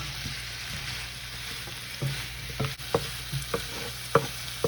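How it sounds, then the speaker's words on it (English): Garlic stirred through potatoes in a hot pan on the stovetop, a steady sizzle beneath a series of scraping stirs and soft clacks spaced out in an uneven rhythm, close up with no talk. "Now we can go ahead and add in our garlic. We're going to mix this in and let this go for about 30 seconds or so."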